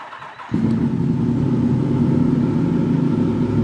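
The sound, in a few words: 2017 Yamaha MT-10 inline four-cylinder motorcycle engine revving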